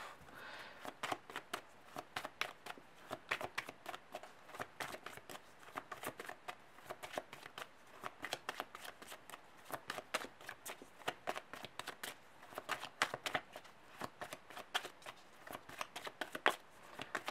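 Tarot cards are shuffled continuously at close range, a steady quiet stream of rapid riffling flicks and slaps that carries on for the whole stretch with no talking.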